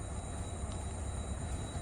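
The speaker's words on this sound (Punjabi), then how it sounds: "ਇੱਕ ਟ੍ਰੇਨ ਆਈ ਤਾਂ ਹੈਗੀ ਆ ਪਿੱਛੋਂ" A train comes into a station at night, a faint, distant continuous rumble of rolling stock with a thin steady tone above it, no voices.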